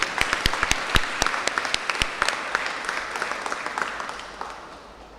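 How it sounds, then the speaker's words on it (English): Audience clapping for a speaker at a Brooklyn Denim Day walk event, with crisp, close individual claps over a lively crowd applause that gradually fades toward the end. "Can I have one more applause from Gary?"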